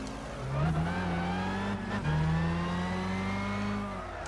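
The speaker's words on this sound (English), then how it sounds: "The noise that car makes." A race car engine in Gran Turismo 6 revs loud and steady, pitch climbing in two long sweeps with a brief dip between shifts, droning continuously without any voices.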